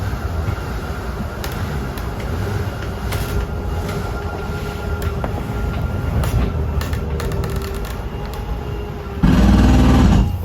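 A slide-out room extending on a 2022 Jayco Eagle 355MBQS fifth-wheel camper gives a steady, loud mechanical rumble with faint clicks. The sound runs throughout and gets louder and heavier near the end.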